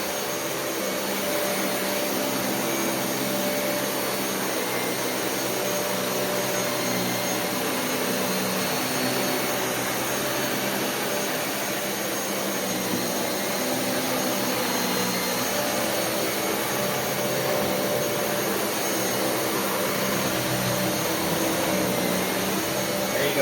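A Dyson Cinetic Big Ball UP14 DC77 upright vacuum cleaner runs continuously at close range, a loud, steady motor whine and airflow roar with slight shifts as it is pushed and swiveled.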